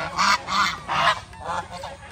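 A flock of large white geese honks close by in a quick run of about five loud, nasal calls, each separated by a brief gap, with no voices over them.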